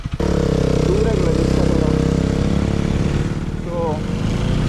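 A new-generation KTM Duke 250 motorcycle engine runs at a steady, loud, close idle, a smooth continuous drone that begins after a sharp start. A voice talks faintly underneath.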